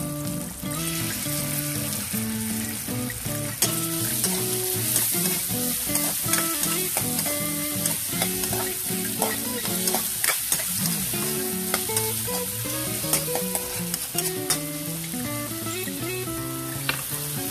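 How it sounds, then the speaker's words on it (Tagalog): Meat sautés in cooking oil for a corn and vegetable dish, a continuous crackling sizzle with stirring, backed throughout by a steady melodic tonal line; nobody talks. "kailangan ginigisa muna yung meat sa mantika"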